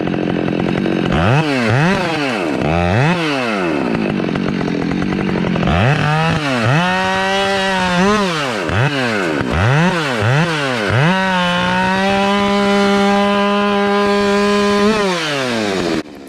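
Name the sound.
Husqvarna chainsaw cutting wood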